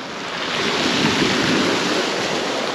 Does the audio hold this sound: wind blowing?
yes